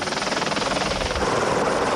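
Helicopter rotor and engine noise, steady and loud, from a camera helicopter tracking a 250cc KTM motorcycle in the 2001 Hluhluwe race through pineapple fields, with the rider doing over 170 km/h; the beating rotor drone fills the whole stretch.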